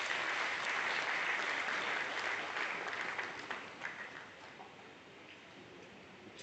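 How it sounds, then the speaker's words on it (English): A convocation ceremony audience applauds the Chancellor with a dense, steady round of clapping that holds strong for several seconds, then thins and fades toward the end. "let's give our very revered Chancellor a round of applause again."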